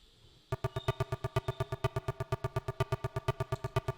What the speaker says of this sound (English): Now the percussion sounds like this.